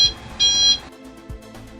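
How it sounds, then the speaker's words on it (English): A machine's electronic reversing buzzer beeps in a short burst over steady machine hum, then stops, leaving the engine running. "Do the functional check of horn and reversing buzzer"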